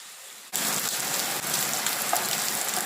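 Prawns roast and sizzle in a pan, a steady, dense hiss of frying that starts abruptly after a brief quieter moment and carries on evenly, close and fairly loud, with no voices.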